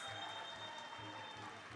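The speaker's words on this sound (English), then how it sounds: "Let's give Advocate another round of applause for those warm closing remarks" Applause at an anti-corruption expo event, a steady, fairly faint wash of clapping filling the hall without pause, with a constant tonal hum running underneath.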